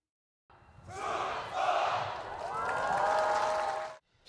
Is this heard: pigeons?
no